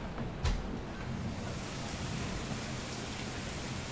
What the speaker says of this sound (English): No, that's just rain.